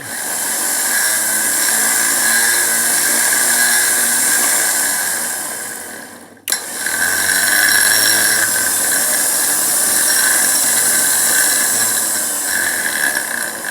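A low-mount 9,000-pound factory winch pulls under load with a loud, continuous motor whine and gear grind, cutting out for a split second midway before running steadily again.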